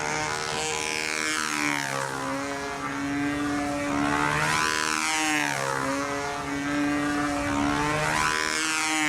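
A Spitfire model airplane, a Joe 90 Spit, flies overhead with a steady propeller engine drone whose pitch rises and falls as it passes and circles, loud and continuous throughout with no talk.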